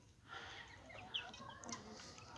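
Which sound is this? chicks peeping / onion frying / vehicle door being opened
chicks peeping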